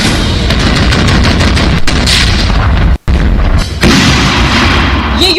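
Heavy explosions and gunfire from a Ukrainian attack on Russian forces in a war zone, loud, dense and continuous booms with a brief gap near the middle and more blasts after.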